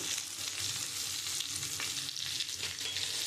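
Ground spices, coriander and chilli powder, sizzle and fry steadily in hot oil while being sautéed for a boal fish curry with potato and aubergine, a continuous close crackle with soft stirring throughout.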